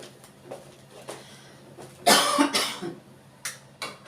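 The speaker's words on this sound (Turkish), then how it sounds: "Ay bu öksürük var ya lanet olmasın" A harsh, close cough erupts in a short burst of several hacks, with quieter kitchen sounds around it during breakfast cooking.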